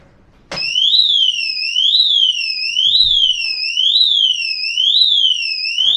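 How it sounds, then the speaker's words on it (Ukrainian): A loud motorcycle alarm beeps in a continuous rising-and-falling warble, repeating steadily for several seconds after a sharp start. "Подивимося, скільки воно буде пищати, бо то ж нема брелка, щоб зняти сигналізацію."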